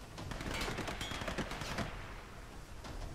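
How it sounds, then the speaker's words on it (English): Rapid gunfire in the video game Tomb Raider, a dense muffled burst of overlapping shots lasting a few seconds at moderate distance. "Who was shooting?"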